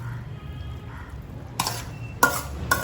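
Vegetables stirred into creamy white sauce penne pasta in a pan make three short scraping swishes near the end, over a low steady kitchen hum.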